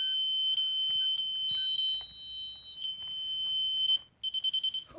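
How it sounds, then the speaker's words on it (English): NAPCO security system keypad sounds a loud, piercing electronic tone, holding a continuous shrill alarm up close before cutting out and stuttering into rapid short beeps. "Keypad is surprisingly loud."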